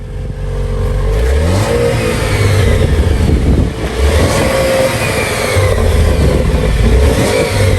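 Jeep Wrangler JL on its stock exhaust, engine revving up and down repeatedly outdoors on a cold day, loud and close with steady rising and falling pitch throughout.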